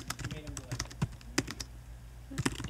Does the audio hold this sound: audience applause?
no